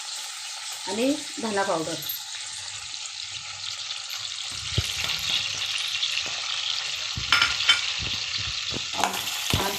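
Spice masala for crab curry sautés in a pan with a steady soft sizzle and occasional scraping stirs, while someone speaks briefly over it.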